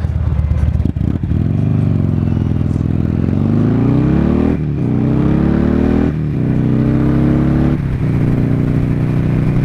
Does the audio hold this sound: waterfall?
no